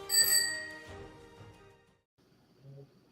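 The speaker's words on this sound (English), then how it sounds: "ring the bell." A bell rings once with a bright metallic ding that rings out and slowly decays, followed by a quiet pause and faint background sound.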